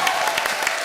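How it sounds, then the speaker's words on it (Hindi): Audience applause in a television comedy show studio, dense steady clapping for under a second with no voices over it. "जोरदार तालियां"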